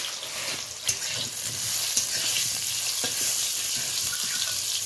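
Boiled dal poured into a hot tempering for sour dal, sizzling at once into a loud, steady hiss with bubbling and a few clinks of a utensil against the pot, close and continuous.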